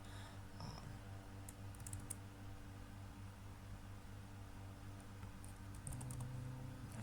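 Commands are typed on a computer keyboard during a network security lab, producing soft scattered key clicks over a steady fan-like hum, faint and close.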